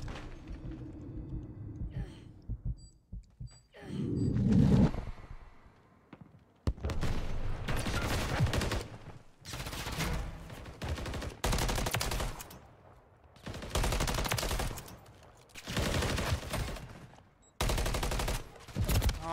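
Bursts of automatic gunfire in Call of Duty Modern Warfare 3 ranked play, loud repeated volleys broken by short gaps, with heavy breathing or a sigh near the start.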